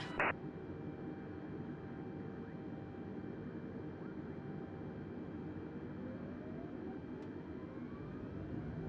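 Airliner jet engines in Microsoft Flight Simulator hold a steady, broad roar as thrust comes up for takeoff, with a faint tone rising slowly beneath the constant rumble.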